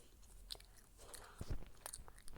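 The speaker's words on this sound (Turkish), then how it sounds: "ağzımda sakız çiğniyorum" Gum being chewed close to the mic, soft wet smacks and clicks in an uneven rhythm, quiet and with no talking.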